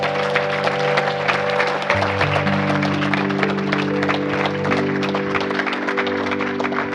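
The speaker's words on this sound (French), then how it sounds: "Quelqu'un acclame pour Jésus." A crowd at a worship gathering claps and cheers steadily for Jesus, a dense and continuous patter of hands over sustained music.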